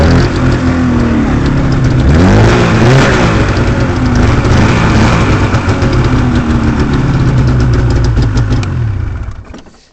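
Ski-Doo 670 Grand Touring snowmobile engine running loud and close, a rough, steady two-stroke drone with a brief rev early on, fading out at the end.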